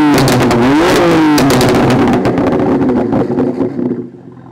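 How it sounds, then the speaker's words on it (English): A loud, throaty exhaust on a BMW S55-engined F80 M3 or F82 M4 revs up sharply several times close by while standing, the engine rising and falling before settling and trailing off into quiet. "we just got done doing the standing revving"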